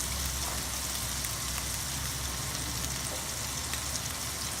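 A T-bone steak sizzles steadily in butter in a pan, a dense, even crackle that continues loud and close without pause.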